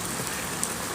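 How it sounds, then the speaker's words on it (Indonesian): Steady rain falls outdoors around a housing park in Serpong, a dense, even hiss of drops on surfaces filling the whole second with no break. "Hujan-hujan."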